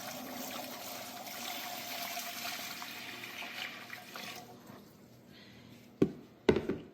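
Water is poured into an All-American canner, a steady close pouring rush for about four seconds that fades out. Two sharp knocks of metal follow near the end.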